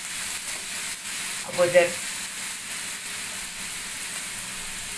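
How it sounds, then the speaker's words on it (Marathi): Ground masala fries in hot oil with a steady, moderate sizzle throughout and a brief stirring burst near the middle, while a voice speaks briefly. "आपण हा तेलावर परतून घेतलेला आहे"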